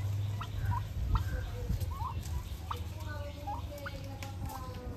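Free-range turkeys grazing on grass let out repeated gobbles and short calls at intervals over a low rumbling background, with a voice faintly present.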